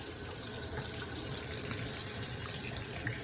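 Hot tap water runs steadily into a sink while rinsing meat, with a constant hissing splash, close by, with no voices.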